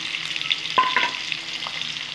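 Potatoes fry in hot oil for a Bengali-style egg curry, giving a steady close sizzle with a brief clatter of stirring partway through and no voices.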